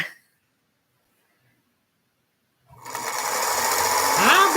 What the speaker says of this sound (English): let me get this sewed and held up. And then I've got to get up from the sewing machine